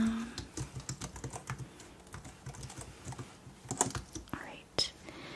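Soft keyboard typing in an ASMR dinner party menu planning roleplay, irregular quiet key clicks in bursts, close up, with gentle whispering over it.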